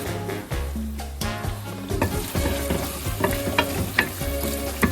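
A kale frittata mixture frying in extra virgin olive oil in a pan gives a dense, close sizzle under tonal background music, with scattered crackles and pops throughout.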